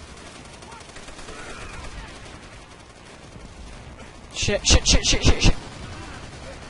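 A gun in the World at War video game fires a rapid burst of about eight loud shots in quick succession, preceded by quieter game ambience; a voice mutters briefly.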